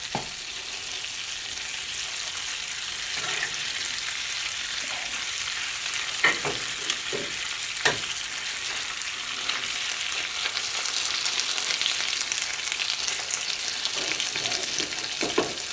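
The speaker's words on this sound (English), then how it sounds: "Now we'll add the onions" Onions sizzle in a pan with reduced tomato sauce over a lowered flame, a continuous soft hiss and crackle with occasional sharper pops and clicks of stirring, steady and close without voices.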